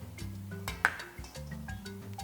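A spatula stirs cooked rice with soy sauce for a healthy yaksik, giving soft clinks and light wet scraping against the bowl over a low background hum.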